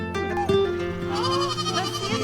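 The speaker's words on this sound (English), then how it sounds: "We're gonna put the goats away." Goats on a farm bleat at evening put-away time, several wavering cries overlapping loudly and close by across the whole stretch.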